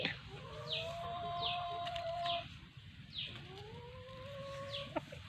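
Chickens call out in drawn, rising clucks and squawks, a few birds near and fairly loud, with brief chirps between the calls.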